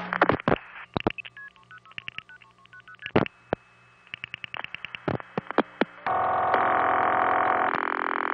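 A telephone number being dialed on a vintage telephone network: rapid runs of touch-tone beeps in quick bursts, a brief steady tone, then a loud continuous tone closing the sequence, with no talking.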